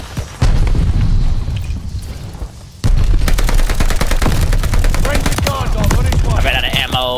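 Rapid gunfire in Call of Duty: Vanguard, loud close bursts of automatic shots stacked with booming impacts, pausing briefly before a dense sustained volley resumes.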